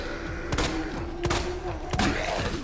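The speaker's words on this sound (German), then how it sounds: "Ja, die macht aber auch gute Sounds hier, die Samurai Edge" Pistol shots from the Samurai Edge handgun in the video game Resident Evil 2, three sharp loud reports spaced about two-thirds of a second apart over a low droning game soundtrack.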